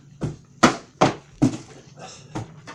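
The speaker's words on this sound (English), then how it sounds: "That's his tail hitting the wall and the door." A dog's wagging tail thumps against a wall and a door indoors, giving a run of five or six close, sharp knocks at an uneven beat, loud at first and then softer.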